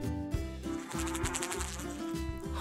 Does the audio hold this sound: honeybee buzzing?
yes